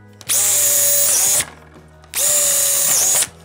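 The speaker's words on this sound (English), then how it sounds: "we will drill our pilot holes on these" A power drill bores pilot holes into the wood of a DIY blanket ladder, with two sustained high-pitched whining bursts close by and a short pause between them.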